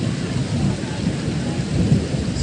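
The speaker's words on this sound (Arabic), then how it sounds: "البرق ده وحش قوي" A loud, steady roar of heavy winter rain fills the air while thunder rumbles low beneath it throughout.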